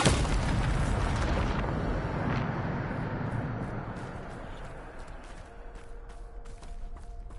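A Bombarda spell explosion in Hogwarts Legacy: a loud, sustained boom with rumbling debris that gradually fades over several seconds, ending in lighter rattles and faint game tones.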